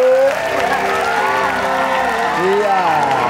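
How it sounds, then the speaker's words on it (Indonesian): A studio audience on a family game show applauds steadily throughout, while a host talks loudly over the clapping. "Silakan kembali ke tempat buat tepuk tangan semuanya luar biasa."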